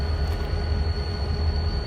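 A train sits on the railroad track at Port Clinton, giving off a loud, steady low rumble with a faint high metallic whine over it, heard close and alone.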